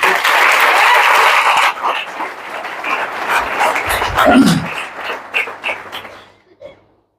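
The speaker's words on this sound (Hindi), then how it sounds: "एक बार जोरदार ताली" A business-event crowd bursts into loud applause that quickly thins into scattered claps, with a brief low murmur partway through, then trails off into near silence.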